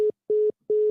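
A phone line tone after a caller hangs up: three evenly spaced steady beeps, each about a fifth of a second, loud and alone with silence between.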